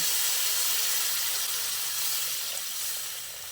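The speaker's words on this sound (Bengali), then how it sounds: "এবার আমি এর মধ্যে জল দিয়ে দিচ্ছি।" Lukewarm water poured into a pan of pumpkin and potato frying in spices, giving a loud burst of hissing sizzle and steam that slowly fades.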